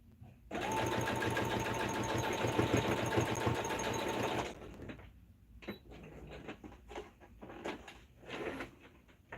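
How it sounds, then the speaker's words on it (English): Sewing machine running a short back stitch on blue jeans, a loud steady motorized whir lasting about four seconds, then stopping abruptly and giving way to quieter handling noises and light room sounds. "I always start with a little back stitch just in case."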